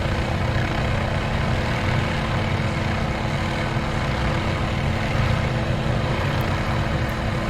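A Shrike 530F helicopter in Microsoft Flight Simulator runs with a steady, dense engine and rotor drone. The broadband rumble holds constant and loud from start to finish, with no voices.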